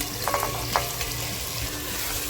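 Boiled eggs sautéed in masala for egg dum biryani, a close, steady sizzle of hot oil with a few soft scraping stirs near the start.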